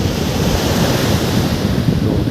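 Sea waves roll onto the Bay of Bengal beach at Mahabalipuram, a loud, continuous roar of surf mixed with buffeting wind noise on the microphone, with no voices.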